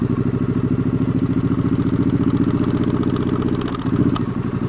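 Liquid-cooled scrambler motorcycle engine running while riding slowly, a close, loud, steady pulsing thrum with a clattery edge, no talk.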